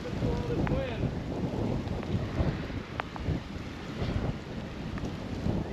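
Strong wind buffets the microphone beside the Sacramento River during wet, muddy fishing, a constant loud rumbling roar with gusty swells throughout.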